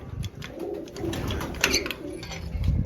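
Pigeons cooing around a new coop, soft low coos repeating irregularly close by, with faint rustling and chirps behind them.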